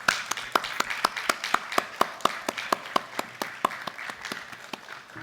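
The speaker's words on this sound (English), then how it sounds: "give her a big round of applause" Rhythmic unison clapping from students at an ACS International graduation ceremony in farewell to a teacher, sharp regular claps in a steady beat, many hands together with a faint crowd murmur underneath.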